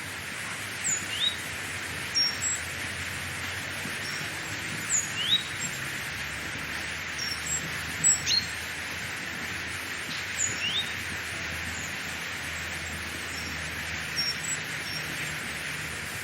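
Garden birds give short scattered chirps and calls, roughly a dozen over the stretch, moderately distant. They sit above a steady broadband wash like a waterfall, with no talking.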